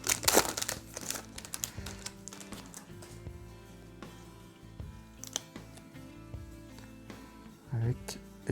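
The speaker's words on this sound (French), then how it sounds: "Je bouge un petit peu les paquets pour essayer de décoller tout ça" Chestnut Heroes 911 trading card packs shuffled and crinkled by hand, giving a close, quiet run of sharp plastic crackles and rustles, busiest at the start and fading into scattered handling noises.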